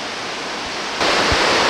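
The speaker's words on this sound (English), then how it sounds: "Just some rapids," Steady rushing water from river rapids above the Big Falls in Newfoundland, Canada, at night roars without a break, a broad hiss of churning rapids that swells a little louder partway through.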